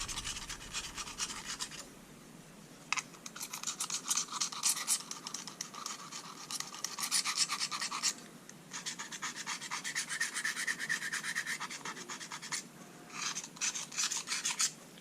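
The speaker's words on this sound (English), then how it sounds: "Here's a utility knife. We'll take it and kind of scrape the big gunk out of here." A utility knife blade scrapes caked gunk off the blades of Fiskars garden shears in repeated rasping strokes, up close and fairly quiet, with brief pauses between bursts.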